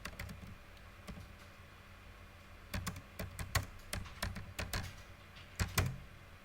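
Fingers typing on a computer keyboard, close and fairly quiet, in irregular bursts of sharp clicks separated by short pauses, with no talk.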